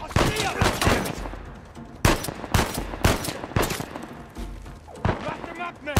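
Sniper and other gunfire crack through a firefight in Uncharted 4: A Thief's End, with sharp, loud shots landing at irregular intervals over dense battle noise while voices shout underneath.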